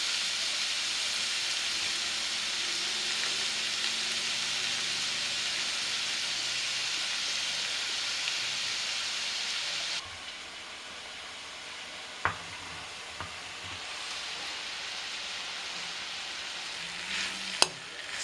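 Onions fry with ginger garlic paste in a pan for a spicy chicken roast, giving a steady, close sizzle that drops slightly in level partway through, with a few sharp clinks of stirring.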